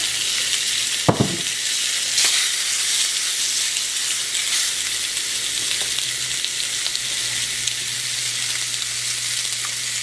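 Food sizzles steadily in a grill pan sprayed with oil, a loud, continuous frying hiss that runs unbroken throughout, with one brief knock near the start.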